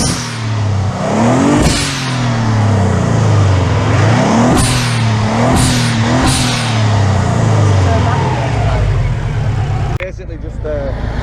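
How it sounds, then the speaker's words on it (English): A Subaru Impreza engine revs repeatedly with uneven, stuttering pulses of a misfire, loud and close, rising and falling several times before a sharp cut near the end, with voices talking over it. "Seems to be misfiring like shit."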